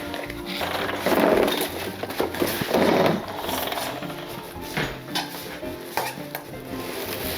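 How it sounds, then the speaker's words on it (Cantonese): Hot scallion oil is stirred together with sesame seeds and salt in a bowl for homemade scallion rolls, giving a few scraping, clattering bursts of stirring with faint clinks and a soft sizzle between them. "同埋咧放1匙羹嘅鹽，跟住你撈勻佢。"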